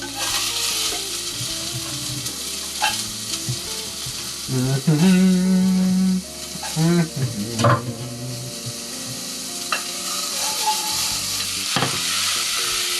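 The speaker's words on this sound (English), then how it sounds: "just saute for a couple minutes" Garlic and carrot sauté in a hot pan for a butternut squash soup, giving a steady sizzle with stirring scrapes and a louder burst of frying in the middle, heard close with no talk.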